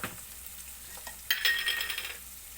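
Salt is stirred into rice in a hot pan for ginger rice. Soft sizzling carries light spoon scrapes, then a louder burst of frying and stirring follows.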